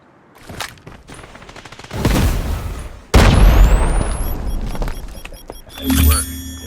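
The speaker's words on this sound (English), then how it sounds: "Let's drop the bomb." Explosions and gunfire in a shooter video game round, with sharp bursts of shots followed by loud booming blasts and rumbling debris, close and dense.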